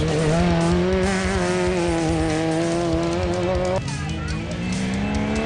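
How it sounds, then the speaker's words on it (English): Class C off-road race vehicle pulling away at the Lichtenburg 200 race, a loud revving engine holding steady tones before dropping and shifting pitch as it sets off, with a voice talking over it. "Johan Bloem and Jani Bloem setting off in their Class C vehicle"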